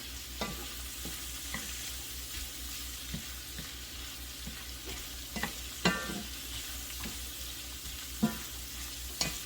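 Shrimp for scampi cooking in a pan, a soft continuous sizzle broken by repeated light clicks and scrapes of stirring, fairly quiet and close.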